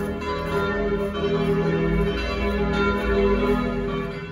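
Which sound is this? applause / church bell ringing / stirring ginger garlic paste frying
church bell ringing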